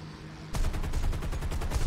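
Naval guns fire in the War Thunder video game, starting abruptly as a dense, rapid run of loud repeated shots that continues steadily to the end.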